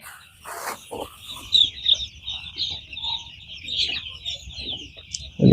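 Broiler chickens cluck and chatter in a poultry shed, a steady close flock murmur with occasional louder squawks over a low background hum; no speech.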